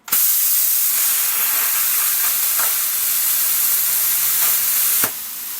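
CNC plasma torch cutting a small slot in metal plate for a custom build: a loud, steady hissing roar that starts abruptly and runs unbroken for about five seconds, with brief crackles, then drops off at the end.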